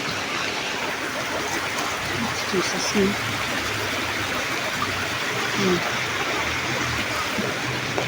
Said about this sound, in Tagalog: Grabe ang baha.